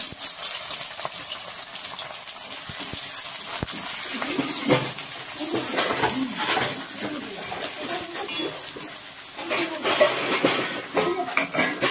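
Bay leaf and onion tossed into hot oil in a pan for Bengali aloo dum, giving a steady close sizzle with scattered metallic clinks of a spatula against the pan throughout.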